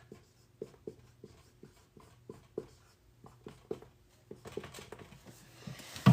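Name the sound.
writing by hand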